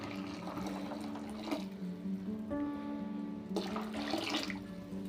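Water runs into a pot of mushroom sambar in two pouring bursts, a soft splashing trickle over a low background hum.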